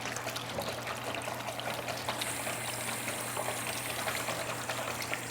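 Water pours and trickles steadily over a daguerreotype plate during washing after gilding, a soft continuous stream at low level with no talking.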